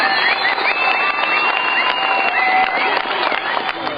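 An enthusiastic crowd cheers and applauds at a parkour demonstration, a dense, loud, continuous wash of clapping and shouting voices that stays steady throughout.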